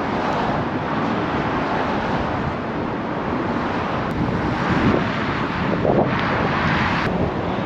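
Strong wind buffets a bridge in Scotland, a continuous loud roaring rush with gusting swells across the whole stretch, no talk heard.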